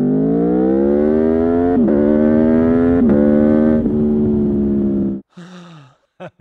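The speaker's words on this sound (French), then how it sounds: "là on a le vrai, l'unique, l'authentique V4 Aprilia, celui qui délivre une bande son" An Aprilia V4 motorcycle engine revs loudly in a steady, rising drone with a few slight dips for about five seconds, then cuts off, followed by brief vocal sounds.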